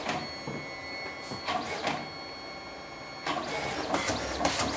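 A Mitsubishi Easy Photo ID70 photo printer at work, its motor whirring and buzzing in repeated bursts with brief pauses as the dry prints feed out, close and fairly quiet.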